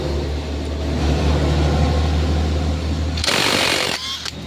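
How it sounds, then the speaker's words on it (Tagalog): A Makita cordless impact driver works the CVT cover bolts on a 2019 Yamaha Mio scooter: a steady low rattling hammer for about three seconds, then a sharp high whirring burst as the bolt spins free, and a short final blip. "Makita impact drive."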